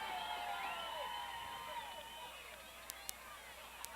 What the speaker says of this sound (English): I didn't see what were we cheering at.